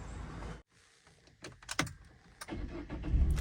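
A Peugeot 207 CC with its ABS warning light on is started up: keys jangle and click, then the starter cranks in a short burst and the engine catches, its idle rising loud and close.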